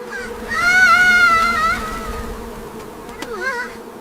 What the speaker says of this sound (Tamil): கோபமடைந்த தேனீக்கள் அனைத்தும் ராமுவை துரத்த ஆரம்பித்தன.